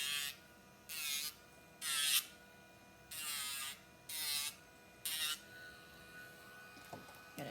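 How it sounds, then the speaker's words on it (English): Dremel rotary tool with a sandpaper attachment smoothing the sharp corners of zip-tie ear posts, five short high-pitched whirring bursts separated by brief pauses, close and fairly quiet. "Just going to go ahead and Dremel those, make them not as sharp."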